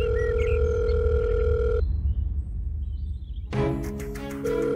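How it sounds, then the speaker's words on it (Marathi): A telephone tone sounds during a call: a steady electronic tone holds, cuts out into a quiet gap, then returns with a brighter layered tone, close and clear with no talking. "फोन लाव"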